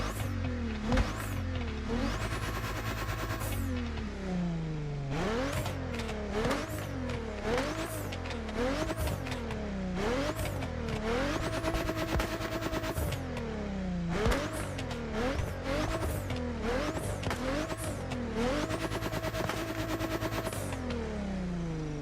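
The Pagani Utopia supercar engine in the racing game The Crew Motorfest screams through repeated gear shifts, pitch climbing and dropping in a rhythmic pattern, loud and continuous with a synthetic, game-like quality.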